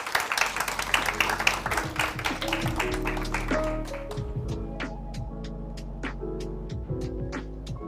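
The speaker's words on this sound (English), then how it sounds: "Round of applause for her as she makes her way up." Sparse clapping rises at a Kenyan brands awards event as a woman from the State Department of Gender walks up, with sharp hand claps thinning out over steady music and low hum.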